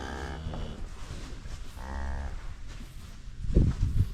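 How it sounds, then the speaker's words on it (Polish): Limousine beef cattle mooing in a farm herd with new calves, several low drawn-out moos close by, followed by shuffling and thumping movement near the end. "O, i jest cielak, jest krowa"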